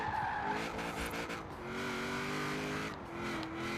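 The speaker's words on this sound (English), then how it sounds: "let's just do a little bit of launch and see how this thing gets out of the line here" El Camino drag car in Forza Horizon 4, a big rear-wheel-drive pickup, launching off the line with tires squealing over a loud, steady engine roar that holds throughout.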